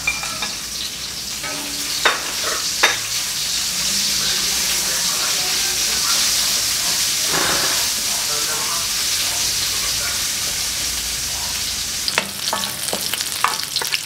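Garlic and ginger sautéing in a pan for sinanglao, a loud continuous sizzle with stirring scrapes and clanks, close up.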